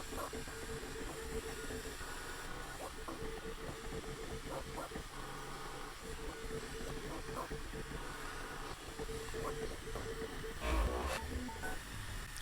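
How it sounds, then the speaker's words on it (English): A Bambu Lab P1P 3D printer runs its input shaping calibration, shaking the bed back and forth with a buzzing, rattling hum and recurring short mechanical pulses, steady and fairly faint, with no talking. "it looks like input shaping too, because it keeps bouncing the bed around."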